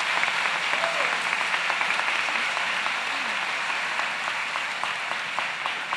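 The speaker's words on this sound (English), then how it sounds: "Give these folks a great round of applause" Graduation audience at Manassas Park High School applauds in a steady, dense wash of clapping from a large crowd that holds at an even level for the whole stretch.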